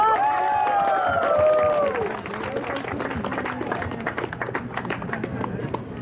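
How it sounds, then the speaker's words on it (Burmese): An audience claps at a football award ceremony for the MCCM Friendly Cup 2018, a dense, steady patter of many hands, with a voice speaking over the opening seconds. "လက်ခုပ်တီးပြီးတော့"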